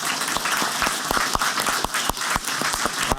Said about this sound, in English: So please give them all a round of applause for their work.